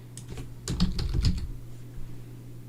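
Computer keyboard typing while texturing a 3D model, a short burst of about eight quick, close keystrokes near the middle with a few lighter taps around it, over a faint steady hum.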